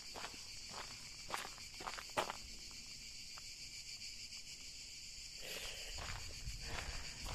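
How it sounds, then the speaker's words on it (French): Continuous high-pitched insect buzzing of cicadas fills the background, with a few scattered footsteps and crunches nearby on a hiking trail along the Célé valley, France. "T'entends les cigales là?"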